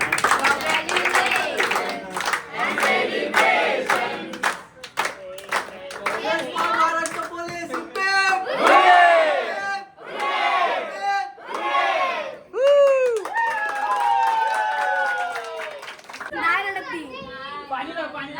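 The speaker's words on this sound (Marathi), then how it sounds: "चला टाळ्या." A family crowd cheers and claps in celebration during a Bhaubeej gathering honouring a sister who joined the police; excited shouting voices and children's chatter dominate throughout, with clapping mixed in beneath.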